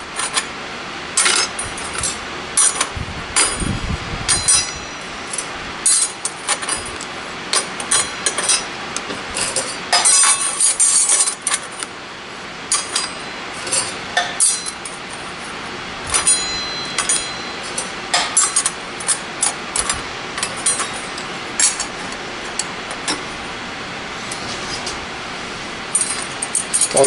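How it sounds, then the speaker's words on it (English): Clutch plates and steels from an RE5R05A transmission are stacked by hand, producing repeated sharp metallic clinks and rattles at irregular intervals, close and crisp, with brief pauses between placements. "we'll stack our clutch here"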